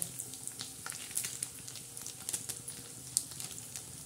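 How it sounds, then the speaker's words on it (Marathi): Bombay duck (bombil) fish frying in a pan until reddish and crisp, a steady close sizzle with scattered sharp pops and crackles throughout. "तर हे बोंबील चांगले आपले असे लालसर भाजलेले आहे खमंग असे."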